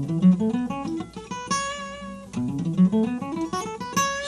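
A guitarist plays a scale pattern, a quick run of picked notes that climb and then descend, heard close and alone with no talk.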